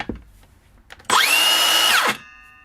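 A Makita cordless power tool running on a 14.4-volt battery whirs up sharply, runs at a steady high-pitched whine for about a second, then winds down, with faint clicks before it.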